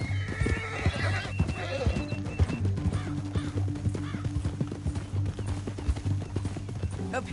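In the video game Red Dead Redemption 2, a horse whinnies repeatedly while hooves clip-clop steadily underneath, with some background music-like tones throughout.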